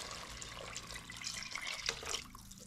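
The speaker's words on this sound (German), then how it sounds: "Jetzt kommt erstmal unser Wasser rein." Water pours steadily into a cooking pot of mushrooms, tofu and onions for a vegan Polish bigos cabbage stew, a continuous close splashing and trickling with no talk.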